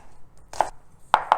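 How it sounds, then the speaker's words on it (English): A knife dices shallots on a cutting board, three crisp close chops, one alone and then a quick pair, with quiet pauses between. "So I'm just dicing up the shallots"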